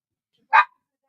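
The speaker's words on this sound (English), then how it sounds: "these dogs, I apologize, they're barking like crazy" One dog gives a single short bark, fairly close, clear and loud against an otherwise silent background.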